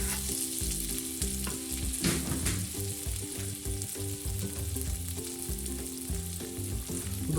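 Diced potatoes frying in a pan for a dry pepper potato masala curry, a steady sizzle running continuously throughout over layered background music, with no talking.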